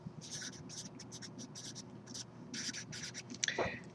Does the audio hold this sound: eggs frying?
no